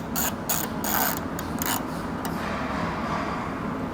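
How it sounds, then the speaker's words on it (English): Ratchet wrench tightening a quarter panel bolt on a Toyota Prado 250, a few quick bursts of clicking pawl strokes close up, followed by quieter handling noise. "We'll actually reattach this quarter panel bolt here and tighten that up."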